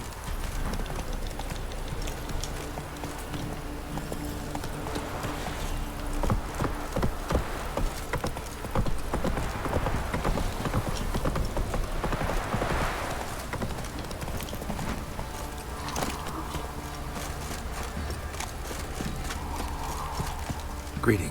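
Roach the horse gallops in The Witcher 3, hooves drumming in a steady rapid rhythm under ambient game sound, with a voice speaking over parts of it.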